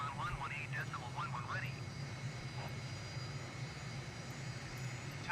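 An airliner in a flight simulator taxis toward the runway, its engine hum faint and steady underneath a man reading out radio calls.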